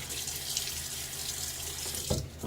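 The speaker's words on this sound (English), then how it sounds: "splash my face with a little bit of water" A bathroom sink tap runs steadily at close range with a bright, hissing flow, broken near the end by a brief splash as water hits a face.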